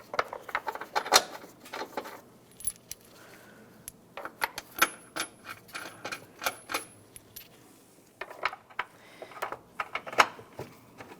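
Metal mounting bolts snugged down on a 2015-2020 Ford F-150 windshield washer reservoir, a run of close, sharp clicks and ratcheting ticks in irregular bursts with short quiet gaps.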